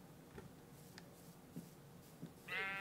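Sheep bleating in Minecraft, a few faint short bleats over quiet game ambience, followed by a brighter louder sound at the end.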